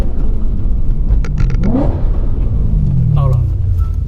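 A BMW E90 M3 with an AME valved exhaust accelerates, its engine note rising in pitch as it revs, rumbling under a voice talking close by inside the car.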